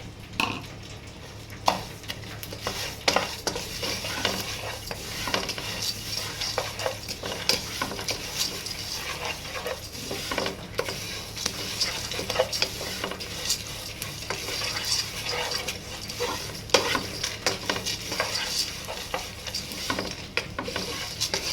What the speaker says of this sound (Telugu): ఇలా ఇదంతా వేగిన తర్వాత మనం దీంట్లో ఈ నువ్వులు అనేది వేసేసుకుందాం.